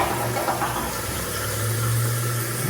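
Toilet flushing after being rebuilt with a wax-free ring: a loud, close rush of water with a low steady hum as the tank refills, continuous and without speech.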